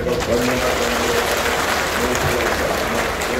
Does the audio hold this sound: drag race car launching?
no